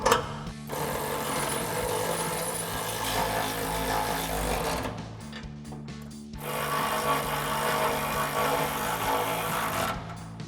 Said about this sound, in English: for the outside bolts, we're gonna grab our ratchet 18mm socket and a 19mm wrench.